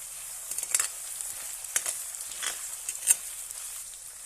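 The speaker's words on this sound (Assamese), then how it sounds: "এতিয়া মই ভাজি থাকিম, কালাৰ অহালৈকে মই ভাজিম" Ginger, garlic, three whole chillies and bay leaves fry in oil as the base for an Assamese mutton curry, a faint, airy sizzle punctuated by a few soft stirring scrapes, close and quiet with no talking.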